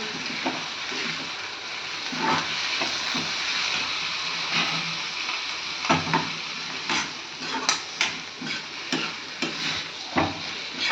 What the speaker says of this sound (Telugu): ఇప్పుడు ఇందులోకి సన్నగా తరిగిన టమాటోలు వేసి కలుపుకుంటూ ఫ్రై చేసుకోవాలి